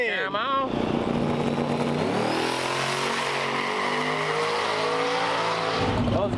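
A no-prep drag racing car making a pass, its engine slightly breaking up in first gear: a sharp launch, then a loud, roaring rev climbing steeply in pitch and holding high before cutting off near the end.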